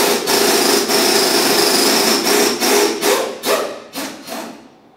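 Wrench working a 22mm jam nut loose on an inner tie rod, a dense run of quick metallic ratcheting clicks close up that breaks into slower, separate bursts and fades out at the end.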